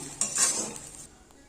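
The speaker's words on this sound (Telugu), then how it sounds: "ఇప్పుడు ఈ రైస్ని సర్వింగ్ బౌల్లోకి తీసుకున్నాము" Cooked tomato rice is spooned into a serving bowl: a quick metal scrape and soft scooping clatter up close, fading to a quiet murmur, with no one talking.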